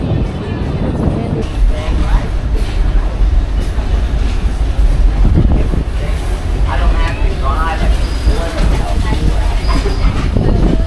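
Heritage train ride on the Black River & Western Railroad in the summer, with a loud, continuous rumble of wheels and cars rolling along the track and voices faintly audible aboard.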